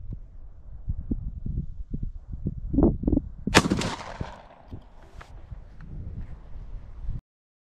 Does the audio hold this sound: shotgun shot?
yes